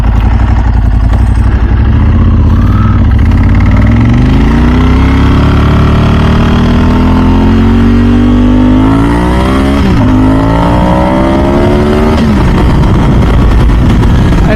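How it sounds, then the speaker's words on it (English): A Ducati 998S motorcycle with a Termignoni exhaust idles loudly up close, then revs repeatedly, its deep rumble climbing and falling in several sweeping throttle blips over about fourteen seconds. "the 998 with the turn me exhaust, it just sounds absolutely amazing."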